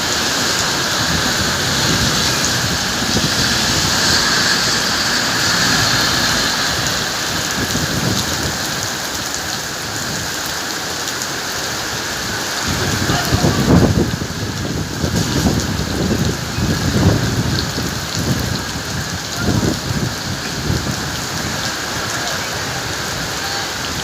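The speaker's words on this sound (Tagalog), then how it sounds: "Sobrang ng lakas ng ulan amin mga guys." Heavy rain pours down hard and steady, a dense hiss of drops drumming on surfaces, swelling louder partway through with a few deeper rumbles, with no voices over it.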